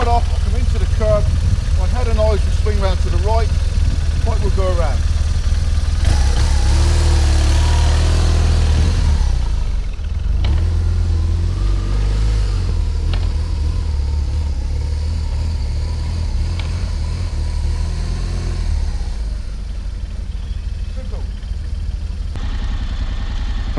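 A motorcycle creeps slowly around a curb, its engine giving a low, steady rumble that runs throughout. Someone talks over it for much of the time.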